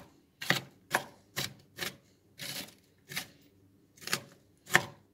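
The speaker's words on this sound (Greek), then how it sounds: "Εγώ το κόβω και έτσι βάζω το μαχαίρι." A kitchen knife finely chopping on a board, eight distinct crisp thuds in an uneven rhythm with quiet gaps between, close and clear with no talk.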